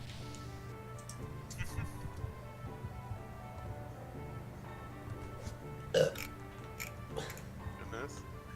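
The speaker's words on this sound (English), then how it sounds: "It's like I can hear Faye burping, even now." A character burps in the video game Xenogears, one short belch standing out midway over quiet game background with soft ticking sounds, and no talking.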